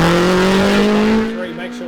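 Race car at a Bathurst Light Car Club hill climb, a loud engine note holding a steady rising pitch close by before fading slightly as it pulls away within a couple of seconds.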